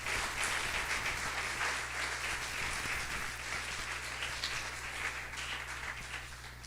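A church congregation clapping in praise, a full, continuous wash of many hands applauding at moderate distance for several seconds with a low hum beneath, no voices standing out.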